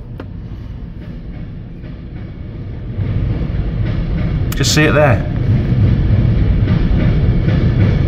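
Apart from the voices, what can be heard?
miniature railway train running at heritage railway museum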